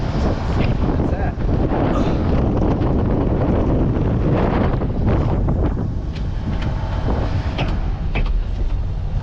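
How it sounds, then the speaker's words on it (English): Strong wind buffeting the microphone outdoors on a farm during corn harvest preparations, a loud, continuous roaring gust noise that fills the whole stretch, with faint talking mixed underneath. "Has it gotta be so windy?"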